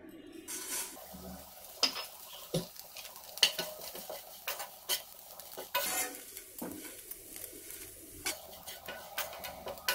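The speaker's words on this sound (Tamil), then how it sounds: "அதே நெய்யில் அவளையும் கொட்டி வறுத்து எடுத்துக்கலாம்" Flattened rice (aval) roasts in ghee for aval payasam while a spoon stirs and scrapes the pan, producing quiet sizzling overlaid with frequent irregular metallic clinks and scrapes, up close.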